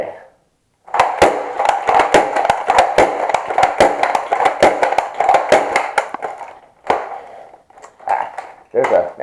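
An Xplorer Longshot foam blaster fires a rapid burst of sharp cracking shots, dozens in quick succession, loud and close, then pauses and fires a few more short bursts.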